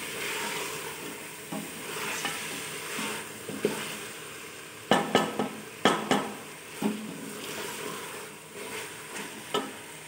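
Black-eyed beans and mutton are roasted in a pot with a soft continuous sizzle, broken by sharp metal clanks and scrapes of a spoon against the pot, loudest in a burst of knocks midway.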